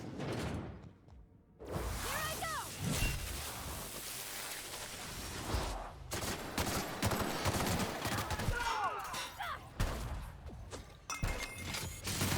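Gunfire in the video game The Outer Worlds comes as dense bursts of loud shots and rapid fire, mixed with whooshes and crackling impacts, with brief lulls between volleys.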